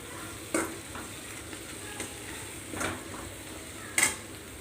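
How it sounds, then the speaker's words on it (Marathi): A spoon stirs chili powder into a cooking mixture, giving a few soft scrapes and taps against the pot over a faint, low sizzle. "आणि दोन चमचे मिरची पावडर त्याला एकजीव करून घेते"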